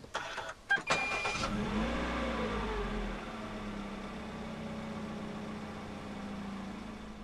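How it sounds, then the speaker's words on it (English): A 2016 Perodua Bezza 1.3 Advance fires up by push-button start: a short crank bursts into a roar near one second, then eases into a steady, close idle hum with no talking. "Put your foot on the brake and press the start button to the right of the steering wheel."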